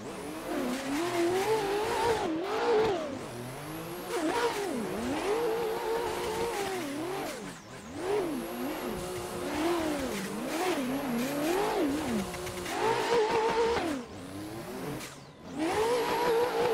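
A drift car's engine in a racing simulator, running a Formula Drift Englishtown tandem with a LINK ECU sound pack, revs loud and close throughout, its pitch climbing and dropping in repeated sweeps with brief lifts between them.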